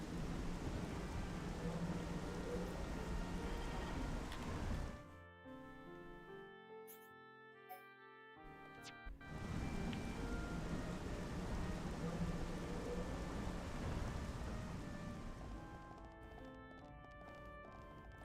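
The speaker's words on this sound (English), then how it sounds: "Have we got, finally, a thunderstorm on Fallen Arm?" Rain and rumbling thunder during a thunderstorm on Fallen Arm in Xenoblade Chronicles, a steady broadband downpour that drops out for a few seconds midway, then returns and fades.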